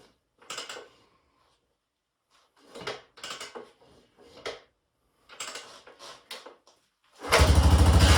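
A Yamaha XT500 single-cylinder motorcycle under restoration is kicked over several times with clanking, scraping kicks and pauses, then its engine suddenly fires into a loud, close, throbbing idle at the end.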